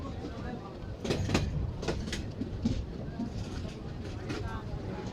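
The Dolonchapa Express stands at Kaunia railway junction, with a rumbling, rattling train and a few sharp clanks over a dense crowded-platform background, while people talk nearby.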